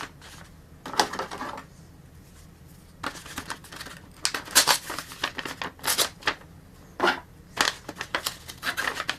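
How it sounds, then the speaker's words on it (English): Paper being handled and laid down as masking over a preamp casing before painting, heard as close, irregular crinkling, rustling and tapping bursts that grow busier toward the end. "I'll put some paper over here to protect it from the paint."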